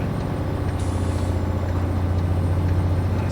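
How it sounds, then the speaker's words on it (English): A truck in the American Truck Simulator game idles with a steady low engine drone while a sharp hiss of air brakes releasing bursts out briefly over it, close and even. "So cool to hear all the old, like the air brakes and everything just released in there."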